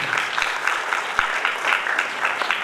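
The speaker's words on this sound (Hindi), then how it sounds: "एक बार ये हमारी पूरी टीम के लिए जोरदार तालियां" Audience applause for a theatre troupe after a stage performance, steady and fairly soft clapping from a crowd with a few sharper individual claps standing out.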